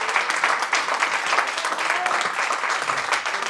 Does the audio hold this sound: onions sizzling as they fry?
no